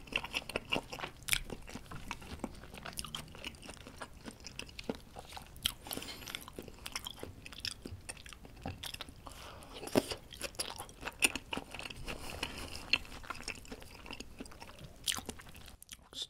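Raw tuna belly is eaten up close, with repeated crisp bites and wet chewing at an irregular rhythm. The sounds are fairly quiet and there is no talking.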